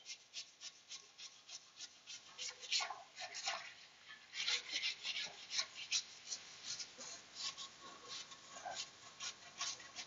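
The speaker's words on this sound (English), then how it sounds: "Let's scrub that off." Scrubbing a surface with LA's Totally Awesome all-purpose cleaner, a steady run of rough rubbing strokes in close, repeated bursts with no talk.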